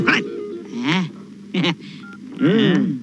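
A phone keypad in a Kannada film scene gives a brief dialing tone midway, heard between bursts of a man's speech.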